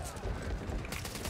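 Gunfire in the Back 4 Blood beta video game, a dense burst of rapid shots filling the clip loudly and continuously with no pause.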